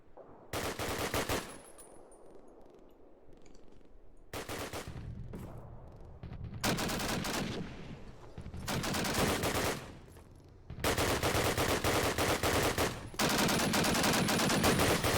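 Bursts of automatic gunfire from the video game Call of Duty: United Offensive, played in a competitive cup match, come as loud rapid volleys separated by short quieter gaps, with no voices over them.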